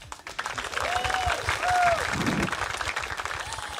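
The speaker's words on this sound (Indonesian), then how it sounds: "Tepuk tangan." Studio audience clapping at a JKT48 idol group school session, a steady mid-loud round of applause with a few cheers and faint voices mixed in, lasting a few seconds.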